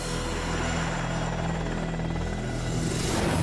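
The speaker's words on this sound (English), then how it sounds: "And here it is, the ultimate helicopter." A helicopter thrums loudly and continuously overhead, its rotor chop forming a steady, close, pulsing roar.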